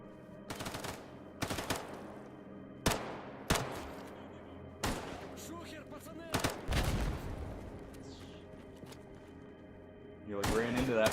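Heavy gunfire in Stalker GAMMA from a gun prone to jamming: loud separate bursts and single shots with uneven gaps and ringing tails, close by, with a rougher clatter near the end.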